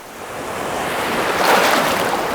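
Surf rolling onto the Lake Winnipeg shore, a continuous rushing wash that swells louder toward the middle, mixed with wind buffeting and no talking.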